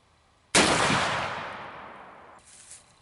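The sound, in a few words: shot from a .50 caliber Markesbery muzzleloading rifle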